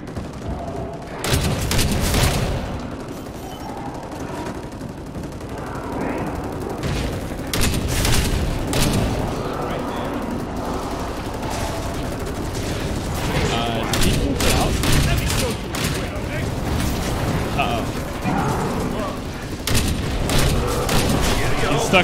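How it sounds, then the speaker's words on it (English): Shotgun blasts from the video game Synced fire in a dense, steady volley, loud booms repeating close together over a continuous rumble of combat for the whole stretch. "I didn't realize this was a shotgun the whole time."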